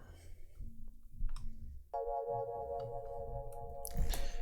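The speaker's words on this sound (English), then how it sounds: "the next sound is the Psycho EP from XV, and it sounds like this." Psycho EP electric piano patch from a Roland XV synth plays a single sustained chord in a trap beat session, entering cleanly with bright stacked harmonics and ringing steadily, with a burst of noise near the end.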